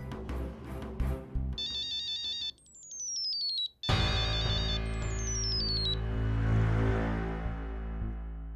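A phone's electronic ringtone plays a bright repeating melody, interrupted and restarted, over a low background hum.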